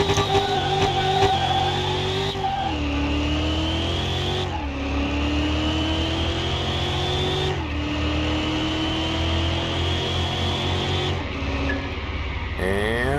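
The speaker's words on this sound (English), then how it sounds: "Second race coming up is going to be that Street Fighter Honda Civic." Engine of a Honda Civic street race car in Car Mechanic Simulator 2021 revving hard through repeated upshifts, each gear climbing in pitch then dropping at the shift, loud and close with no talk.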